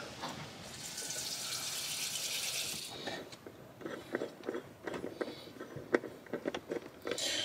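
Water runs steadily from a motorhome tap for a few seconds, then stops, leaving scattered light clicks and knocks nearby.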